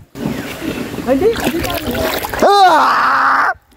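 River water splashes and sloshes around a person moving in it, with an excited voice calling out over the splashing.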